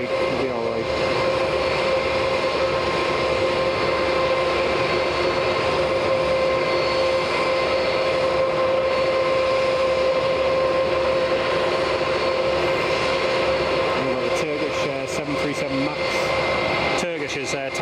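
KLM Boeing 737-900 taxiing at Edinburgh Airport, a constant loud jet engine whine with a steady tonal hum throughout, heard from a distance with a voice talking over it at times.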